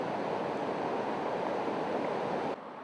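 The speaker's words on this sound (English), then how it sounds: "This is just one of half a dozen waterfalls and rapids that have to be negotiated to get up and down" Rapids and a waterfall on the Rewa River in Guyana make a dense, loud, continuous roar of rushing water that cuts off abruptly near the end.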